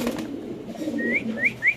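A pigeon coos a few times, soft rising calls repeating near the end, over a low background murmur.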